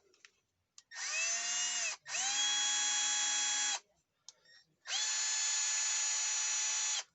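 A Milwaukee M12 hammer drill spins a quick-change bit in three separate bursts, each a close, high motor whine that ramps up, holds steady for a second or two, then cuts off, with short pauses and small clicks between.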